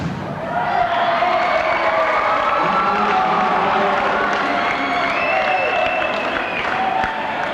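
Arena crowd at a 1986 volleyball final roaring in disapproval of a call, a loud sustained wash of shouting, cheering and clapping that holds throughout.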